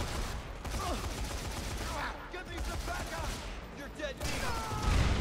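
Assault rifle fire in the video game Dead Rising 3, with rapid repeated shots running throughout amid other game noise and a person talking.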